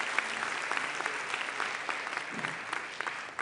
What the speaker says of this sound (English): Please join me in giving them a real great round of applause.